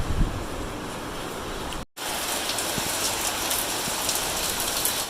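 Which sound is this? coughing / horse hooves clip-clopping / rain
rain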